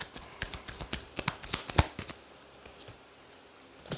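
Tarot cards being shuffled by hand, a run of crisp riffling snaps and flutters that thin out after about two seconds, close and fairly quiet, with no talking.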